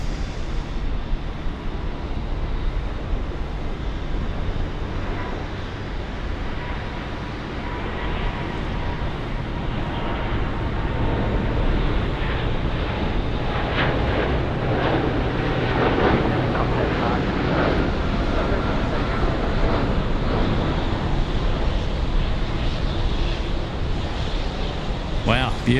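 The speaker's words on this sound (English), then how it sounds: "Qantas 27 departing runway 34 left." Qantas jet departing Sydney Airport on runway 34 left, a broad steady roar of engines and rushing air building through the clip, loud and sustained with wind-like noise, no clear talk over it.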